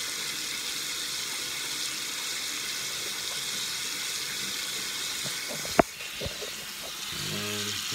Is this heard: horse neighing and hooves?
no